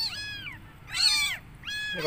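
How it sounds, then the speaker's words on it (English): Tiny newborn kittens meowing, three high, thin, wavering meows in a row, close and clear, with no talking and only faint background hum. "we have got the world's smallest kittens here"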